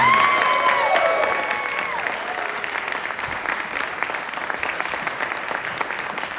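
Film festival premiere audience applauding and cheering the director and cast after a Q&A, dense loud clapping with whistles at the start, settling into sustained even applause.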